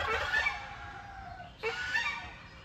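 Loud, nasal honking calls from large birds, two drawn-out bursts close by with a short gap between them.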